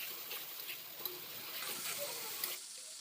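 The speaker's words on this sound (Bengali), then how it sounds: "কিছুক্ষণ ভেজে নিচ্ছি।" Ginger, green chilli and tomato paste fry in a pan with a steady, soft sizzle and faint crackle throughout, fairly quiet and close, with a few small utensil taps and no talking.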